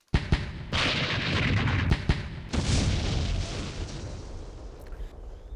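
Artillery fire in the Campaign Series: Rising Sun war game, with several sharp booms followed by a sustained roll of rumbling explosions that slowly fades out.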